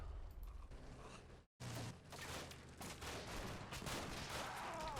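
M16 rifles firing in Combat Mission: Cold War, dense rattling bursts of small-arms fire with mechanical clatter and a brief silent cut early on, fairly quiet overall.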